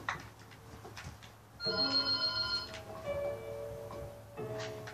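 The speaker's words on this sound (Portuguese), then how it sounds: "Telefone!" A telephone rings with a bright, steady electronic tone in two bursts, close and prominent, against faint background noise during Minecraft play.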